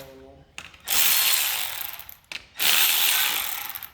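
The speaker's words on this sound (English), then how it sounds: "you're going to have access to go in and get out that final bolt" A ratchet wrench spins out the last bolt on a BMW 335D converter bracket in two bursts of rapid clicking, each lasting over a second, close and fairly loud with brief pauses between.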